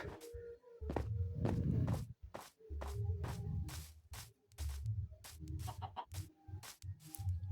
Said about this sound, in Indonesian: di sini mungkin gue mau cari ayam dulu guys, sebelum gue ke gua atau apa. Sini ada banyak ayam ya.